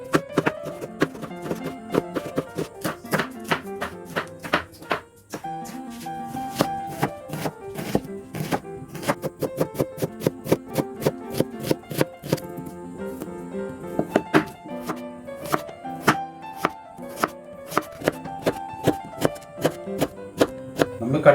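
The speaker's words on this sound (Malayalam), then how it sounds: "തക്കാളി കട്ട് ചെയ്യാം." Tomatoes sliced with a knife on a cutting board for Korean street food, a steady run of crisp, close chopping taps with short pauses and faint kitchen background.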